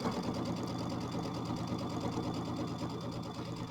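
Sewing machine stitching quarter-inch binding around a small Kimberbell mini quilt, a steady close whirring hum with a fast rhythmic needle patter, running continuously without voices.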